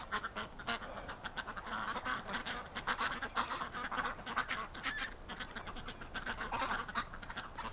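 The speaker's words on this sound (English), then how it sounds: "This is, like, bar none the best batch of ducks we've had yet here on the show." Ducks and geese in winter call in a busy flock, overlapping quacks and honks repeating in irregular bursts at moderate distance, fairly quiet overall with no talking.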